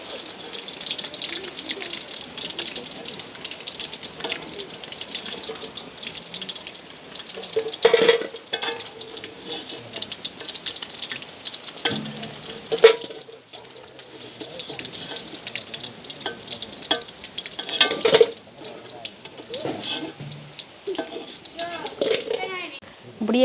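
Meat frying in oil in a village cooking setting, a steady sizzle with stirring and scraping clatter, under ongoing talk with occasional sharp knocks.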